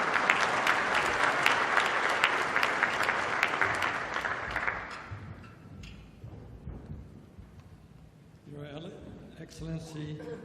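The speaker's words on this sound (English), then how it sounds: "Please, let's give him a big round of applause." A big round of applause for a speaker at a development finance forum in Accra, Ghana: dense, loud clapping for about five seconds that thins and fades, followed by a voice speaking.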